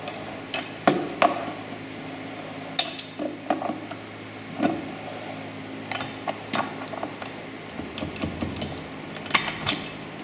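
A wrench tightens the wheel nuts on a Dodge car wheel, giving sharp metallic clicks and clinks in irregular bursts, close and fairly quiet over low background noise.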